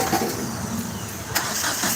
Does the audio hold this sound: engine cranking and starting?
yes